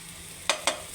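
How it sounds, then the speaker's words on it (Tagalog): Onion and garlic sautéing in a pan for upo with misua, a soft steady sizzle with two quick sharp scrapes of a utensil stirring, close and brief, with no speech. "Gisa-gisa, inikos-nikos ang sibuyas, ang mag-asawa, sibuyas at bawang."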